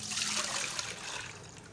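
Water from a jug, the same water used to soak lentils, pours into a pressure cooker in a home kitchen, making a steady close trickle and splash for about two seconds with no talking.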